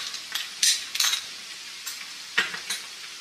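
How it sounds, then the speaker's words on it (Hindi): Crushed garlic and ginger fry with lightly browned onions in a pan, a low steady sizzle broken by several sharp stirring scrapes and clinks of a utensil against the pan, close and without speech. "हल्का गोल्डन ब्राउन हो गया प्याज के साथ हम ये लहसुन अदरक कुटा हुआ ये डाल रहे हैं।"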